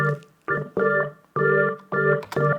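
Hammond organ playing dry, with no plugins or effects, in a beat production: sustained chords come in about five short blocks with brief gaps between them, loud and clear and alone.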